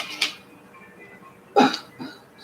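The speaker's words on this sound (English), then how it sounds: "See, once you cough, it's over." Two short, sharp coughs a second or so apart, close by, followed by a softer exhale.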